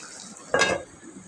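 A lid is set onto a pot of cooking vegetarian mixed vegetables with milk, giving one close metallic clatter and scrape about half a second long over a low background hiss.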